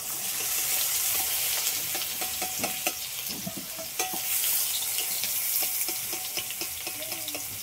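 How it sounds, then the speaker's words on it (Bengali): Potato pieces and tomato fry together in hot oil, sending up a steady, bright sizzle broken by frequent scraping and stirring strokes of a spatula in the pan. "টমেটোটাও এই আলুর সাথে একটু ভেজে নেব।"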